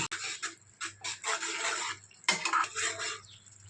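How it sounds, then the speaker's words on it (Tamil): Green chilli paste is added to hot ghee in a pan for a chilli halwa, giving a close, broadband sizzle and scraping in two main bursts, with light clinks of a utensil against the vessel and no talk. "நெய் பாத்திரத்தில் பச்சை மிளகாய் பேஸ்ட்டை நான் சேர்த்துக்கிறேன்."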